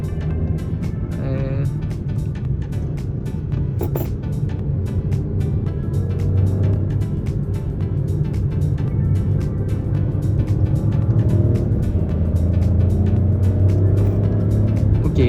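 A car driven gently at low speed on the road, with a steady low engine rumble and a scattering of light ticks and rattles continuing throughout, with no speech.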